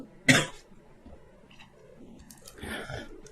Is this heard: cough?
yes